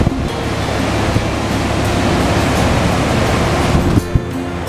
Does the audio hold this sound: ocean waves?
yes